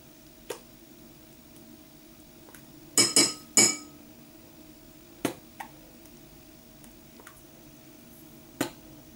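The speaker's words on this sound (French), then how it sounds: "Donc on va mettre 4 cuillères à soupe de mayonnaise." A spoon clinks against a bowl as spoonfuls of mayonnaise go into potato salad, giving a few sharp, close metallic taps scattered over a quiet kitchen background, with a small cluster of them near the middle.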